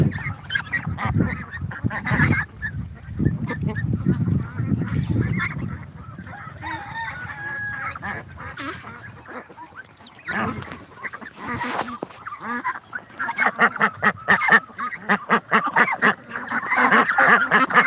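Ducks on a farm quack and honk loudly and continuously, the calls dense and overlapping in a noisy flock, with a stretch of rapid repeated quacking toward the end.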